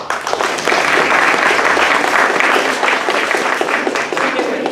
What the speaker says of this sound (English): let's have a big round of applause for our actors in Bus Stop